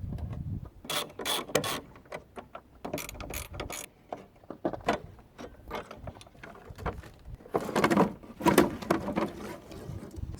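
A hand ratchet clicks in repeated bursts of quick, close pawl ticks with short pauses between them, undoing the nuts on the battery brace of a Ford Fiesta Mk7.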